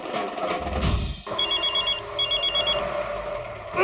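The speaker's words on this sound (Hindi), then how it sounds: "जेठालाल का फोन है" A telephone rings in an Indian TV comedy scene, a repeating electronic ring in two bursts over a busy background, with the start muddied by a low rumble and a sharp sound at the end.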